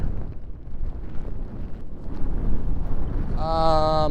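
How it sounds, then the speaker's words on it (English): Strong wind on a cloudy mountain buffets the microphone in a steady low roar, with a brief tonal whine appearing near the end. "It's pretty windy up here"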